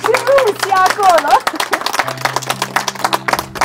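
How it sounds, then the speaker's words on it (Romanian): A crowd at a village celebration in Baimaclia applauds the godparents, bursts of clapping rising under loud, animated speech and voices close by. "haideți să-i aplaudăm și pe ei, să audă și frumusii acolo"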